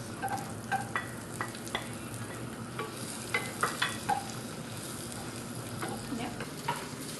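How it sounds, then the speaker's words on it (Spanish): Bacon fries in melted butter with garlic, giving a continuous soft sizzle punctuated by regular scraping and tapping as a utensil stirs the pan. "Lo que estoy haciendo ahora es freír el tocino para que bote jugos"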